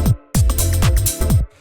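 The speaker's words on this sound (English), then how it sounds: "So just like an 808 or 909 style rim shot." Punchy drum machine hits in an 808 or 909 style, including a short rim shot, repeat in a quick groove from a deep minimal house track, loud and dry with no talking.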